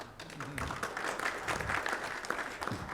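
A crowd at a tobacco-free campaign event claps, a dense, moderately quiet patter of many hands that keeps up throughout.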